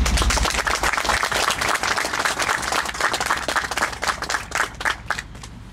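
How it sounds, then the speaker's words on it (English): An audience at a military headquarters dedication ceremony breaks into loud, close applause, a dense mass of sharp individual claps that thins out toward the end, with a low rumble underneath. "So please join me in a round of applause"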